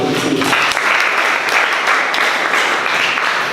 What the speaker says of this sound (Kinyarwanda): tubasabe mwikomera amashyi n'abaje